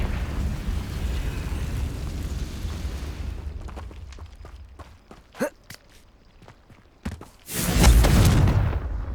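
In the video game Hogwarts Legacy, a Confringo explosive spell blast bursts out loud and close, after quieter rumbling, scattered footsteps and clicks.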